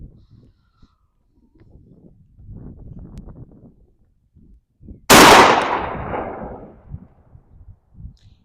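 A 12 gauge shotgun fires a single Winchester Deer Season 1 1/8 ounce slug at an outdoor range: one loud, sharp blast with a long decaying tail after a few quiet seconds of faint background noise.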